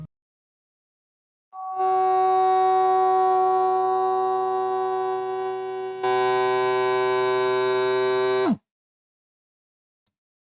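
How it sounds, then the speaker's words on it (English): An electric vacuum sealer pump draws the air out of a coffee container with a loud, steady droning buzz for several seconds, shifting pitch partway through before cutting off abruptly. "the vacuum sucking pump"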